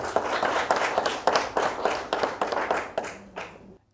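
Listeners at an Easter mushaira poetry gathering clap for a poet, a close, loud burst of rhythmic hand claps that stays steady for a few seconds before tapering off into silence.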